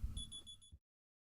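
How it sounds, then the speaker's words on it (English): A phone alarm goes off quietly indoors in a short burst of rapid, high-pitched electronic beeps over a low background murmur, then stops abruptly. "Sorry, that was my alarm."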